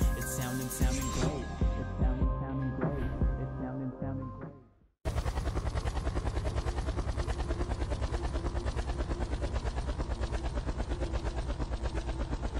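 A helicopter in the video game Unturned, first under busy mixed game sounds, then after a brief cut a loud steady rotor chop with an even rapid rhythm that holds close and constant.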